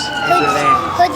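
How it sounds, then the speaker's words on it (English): Ambulance siren passing on a Staten Island street during Hurricane Sandy, a loud wavering wail that sweeps steadily through the clip with traffic noise beneath it. "Oh, yeah, you're right. It's an ambulance."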